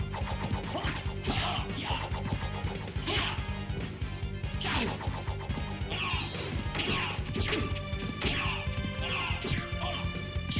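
Richter from Symphony of the Night batters the player's character into a wall, giving dense, repeated smashing thwacks spread evenly across the stretch, layered over loud game music.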